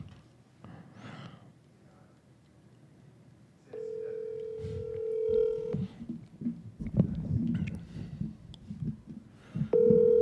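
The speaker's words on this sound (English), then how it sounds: "We're going to see if we can get somebody on the phone here." An outgoing phone call to a sales lead rings back through a speakerphone, a steady buzzing ring tone in two bursts with room noise and faint movement between them.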